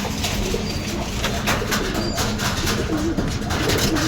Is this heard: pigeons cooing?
yes